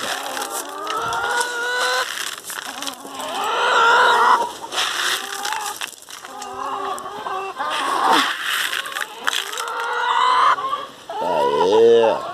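A flock of chickens clucks and cackles busily while being fed hydroponic corn, with loud overlapping calls close by in bursts throughout.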